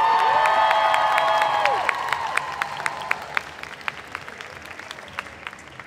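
A crowd at a cosplay contest at MCM Birmingham 2023 applauds and cheers. A loud burst of whooping and clapping peaks early, then thins into scattered claps that gradually fade.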